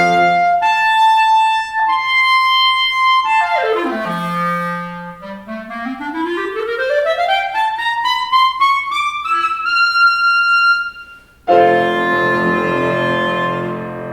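A clarinet plays a recital excerpt with held high notes, a swooping dip and climb through the register, and a squeak near the end before a brief pause and a fresh phrase. The playing is close and steady with no voices.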